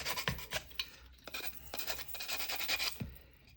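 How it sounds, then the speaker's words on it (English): A coarse nail file rasps over the corners of a wooden Jenga-style block in quick, close scratchy strokes, quiet and uneven, with small knocks between passes and no talk. "you're just going to file the corners"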